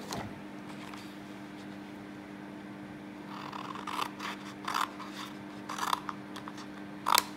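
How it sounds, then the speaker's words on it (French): Scissors or a blade cut paper pieces for a triple-layer faceted box, first as faint soft rubbing, then as a series of crisp snipping and scraping strokes that grow louder near the end over a steady low hum. "on va découper ces 2 morceaux-ci également"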